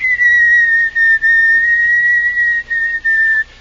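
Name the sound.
person whistling a song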